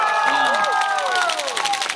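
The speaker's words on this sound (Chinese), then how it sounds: "这个时候应该要来一下掌声" A concert crowd in Kaohsiung cheers and applauds loudly and steadily, with shouts rising over continuous clapping; a few higher voices sweep through the din and no single person speaks.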